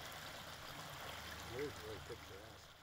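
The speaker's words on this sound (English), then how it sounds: "I found a beautiful little wooden bridge with a gurgling brook underneath." Gurgling brook flowing beneath a small wooden bridge in the woods, a steady soft trickle of water with a few brief bubbling gurgles near the middle, faint and continuous.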